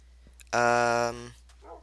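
A dog in the video game Minecraft gives one short, loud, harmonic bark or whine, with quiet game ambience around it.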